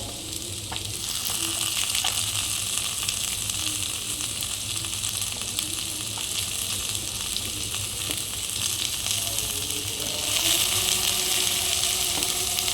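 Thinly sliced potatoes fry in oil, giving a continuous soft sizzle and crackle with occasional stirring scrapes, moderately close and without talk.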